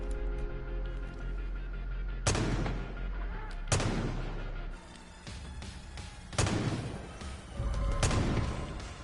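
Sniper rifle shots in Far Cry 5 Arcade on a snowy city map, several loud single cracks with booming tails spaced a couple of seconds apart over steady game ambience.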